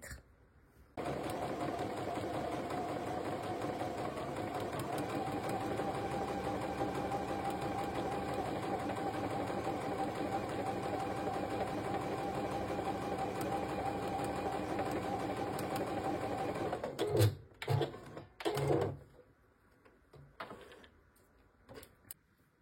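A sewing machine stitches a basting seam on shirt fabric for a flat felled seam, running as a loud, steady, close whir for about sixteen seconds before stopping, followed by brief handling clatter and then quiet.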